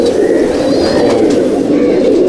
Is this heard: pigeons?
yes